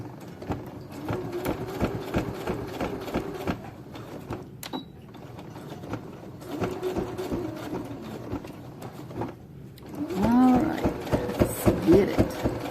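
Sewing machine stitching a fabric face mask in short bursts of rapid mechanical whirring, separated by brief pauses, faint and close, with a voice speaking between runs.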